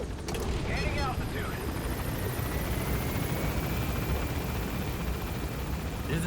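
The Pequod helicopter in Metal Gear Solid V flies overhead with a continuous rotor drone and whine, steady and fairly loud throughout, with no one talking.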